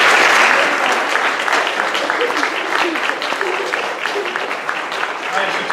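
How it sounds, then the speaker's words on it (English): Steady applause from an audience at a school spring sports assembly, loud and sustained for several seconds and filling the room. "2 claps for Coach Foley."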